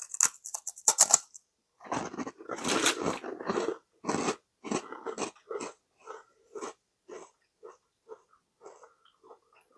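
Close, crisp crunching of someone biting and chewing a freeze-dried vanilla space ice cream sandwich: a dense cluster of sharp bites at first, then a run of separate crunches that grow softer and sparser. No talking.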